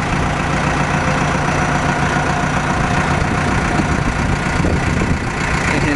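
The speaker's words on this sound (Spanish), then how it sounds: "El motor prendió bien, faltaba batería, pero ya se la colocó y se oye muy bien el motor." A 2004 Caterpillar CAT 420E backhoe diesel engine idles steadily and loudly after a battery replacement, a continuous even rumble close by with no speech.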